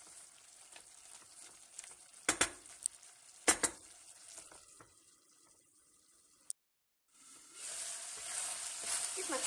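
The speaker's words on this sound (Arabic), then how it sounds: "باش نخلوه اللحم هذا يتقلى مع البصل لين ينشف الماء نتاعو" Meat fries with onion in a pot, a soft hissing sizzle with sharp utensil clinks and stirring scrapes, a brief gap, then a louder steady sizzle; a voice talks at times.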